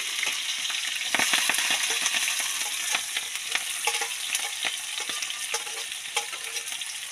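Onion, chilli and garlic frying in a pan, a dense, steady sizzle that runs throughout with frequent small crackles and light stirring scrapes, close and moderately loud, no voices.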